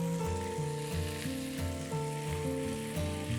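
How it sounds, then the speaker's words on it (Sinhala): Oil heats in a frying pan before eggs go in for a tempered egg and water spinach dish, making a constant low sizzle under steady background music. "දැන් මේ තෙල් ටික පොඩ්ඩක් රත් වෙන්න දෙන්න ඕනේ."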